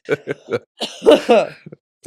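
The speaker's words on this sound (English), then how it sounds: "you gotta clear your throat" Several short, gruff throat clearings come in a quick rhythm, followed by a longer, rougher rasp and a couple of small trailing catches, close to the listener.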